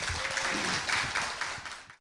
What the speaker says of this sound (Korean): 박수로 함께 하시기 바랍니다.